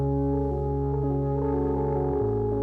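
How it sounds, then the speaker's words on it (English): A beat sample run through a distortion plugin, with held synth-like chords shifting pitch in steps and a thick, slightly gritty tone, loud and continuous with no voices. "Get some distortion out of this plugin too."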